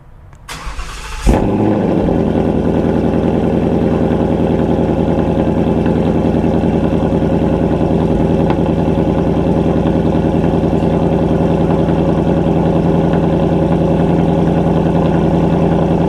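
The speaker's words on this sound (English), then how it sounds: "starting it up and making sure the valves are working. So we can get the first real start up here." A 2019 Ford Mustang GT with a Borla ATAK active exhaust, valves closed, cranks and fires within the first second and then settles into a loud, steady, rumbling idle that holds to the end.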